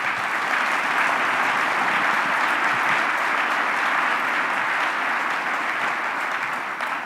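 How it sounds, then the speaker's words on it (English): An audience at a sustainability summit gives sustained, even applause that stays steady and full for several seconds with no talking over it. "So if everyone could please give them a round of applause."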